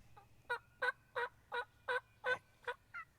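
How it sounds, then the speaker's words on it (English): A wild turkey gobbles hard from a distance, a rapid series of about nine evenly spaced rattling notes rising out of a quiet outdoor background. "Oh, he's gobbling hard."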